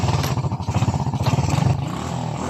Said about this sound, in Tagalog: Una natin ngayon susi at try natin panandarin ng kanyang motor.